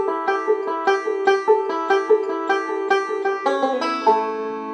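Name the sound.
fixed position lick with pull-off, ending on G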